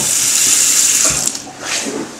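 Tap water pours steadily from a faucet into a sink, loud and close, in a continuous hissing splash with a slight shift in tone near the end and no voices.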